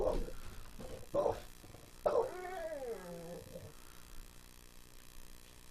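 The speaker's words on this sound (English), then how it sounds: "let those fucking dogs out" Dogs bark in short bursts during a tense standoff where tear gas is in use, then one lets out a long, wavering whimper or howl, fairly close, with some voices in the background.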